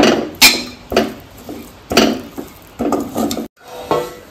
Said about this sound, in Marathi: चांगलं मिक्स करून घ्यायचं। ड्रायफ्रूट, मोदकाचं सारण रेडी आहे।